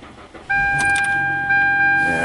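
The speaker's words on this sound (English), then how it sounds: "Yeah, see, today it started really good." A Hyundai Sonata with a P0171 lean fault cranks and fires up, a steady electric chime ringing throughout as the engine catches and settles into a close, loud idle.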